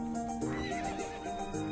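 A horse neighs in the video game To The Moon, a drawn-out whinny of harmonic cries with faint hoofbeats under it, heard clearly without talk.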